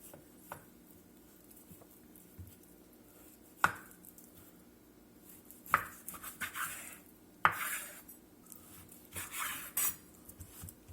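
A knife cutting beef into roughly one-inch chunks on a board, with scattered sharp chopping knocks and clicks separated by quieter pauses, close and fairly soft.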